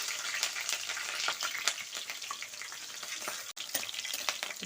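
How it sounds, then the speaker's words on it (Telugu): Slit green chillies fry in hot oil with a steady, dense sizzle and crackle, close and continuous throughout, while a dahi aloo is cooked, with no talking. "పచ్చిమిరకాయలు వేసుకుంటున్నానండి. 4 చీలికల కింద కట్ చేసుకుని వేసుకుంటున్నాను."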